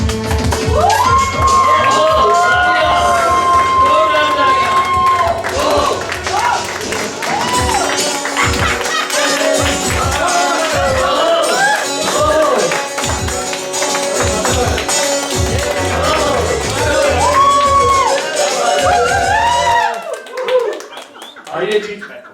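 An audience at a birthday award night claps rhythmically in strong, steady beats and cheers, with loud talk and music over the crowd throughout.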